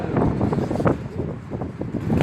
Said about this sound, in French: gêné par le vent et les rafales qui sont absolument pas constantes